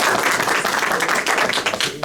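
Audience clapping at a township Democrats meeting, a short, loud burst of many hands that thins out near the end, with some voices over it.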